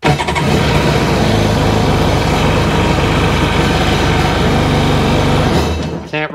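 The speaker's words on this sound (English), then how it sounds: "rev it up because I put the camera in the way. Now I can." A Seadoo 951 DI jet ski engine roars at a steady high rev for about six seconds, loud and close, then cuts off abruptly.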